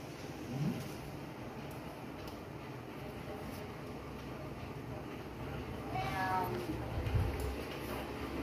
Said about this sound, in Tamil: எங்க கத்துது? பூனை படுத்துட்டு இருக்கு, உட்காந்துட்டு இருக்கு.